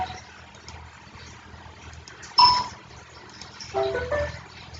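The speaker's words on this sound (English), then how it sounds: "Google Shopping notification sound was changed." A Google Shopping notification chime plays on a Samsung Galaxy S21, a short bright ding, followed a moment later by a softer chiming tone, both in a quiet setting.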